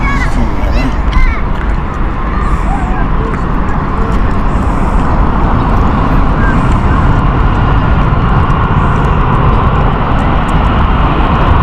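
An Airbus A380 on runway 27 left at Heathrow Airport makes a loud, continuous engine roar that fills the whole span with dense, steady noise and no break.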